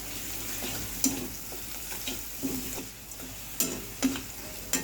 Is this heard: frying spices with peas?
yes